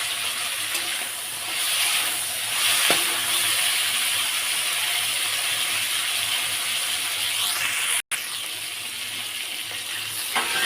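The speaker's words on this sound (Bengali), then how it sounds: "ডাঁটার সঙ্গে 4টে টমেটো ভেজে নেব।" Four tomatoes fry in a pan alongside drumsticks, giving a steady, close sizzle throughout, with occasional stirring scrapes and one abrupt momentary cut near the end.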